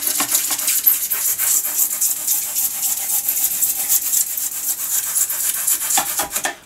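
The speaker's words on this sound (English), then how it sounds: "Try not to snap them, let your knife go all the way through." A knife saws back and forth through a terrain tile for a tabletop wargame board, giving a steady, close, rasping scrape that runs without a break.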